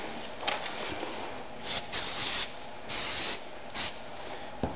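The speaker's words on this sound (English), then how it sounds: "I'll put a little bit of spray glue on it" Several short bursts of spray adhesive hiss from an aerosol can in quick succession, some longer than others, close by with a soft rustle between them.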